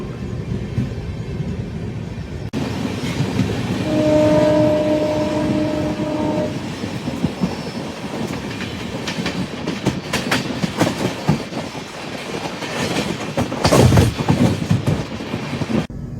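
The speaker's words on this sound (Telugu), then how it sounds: "ఏం train? Tirupati Visakhapatnam double decker express. Shunting locomotive పెట్టేసి ఉంది." Tirupati–Visakhapatnam Double Decker Express train with a shunting locomotive at a station: a loud horn blast, rolling wheel clatter, rail clicks and metallic squeal continuing over steady engine rumble, with no voices.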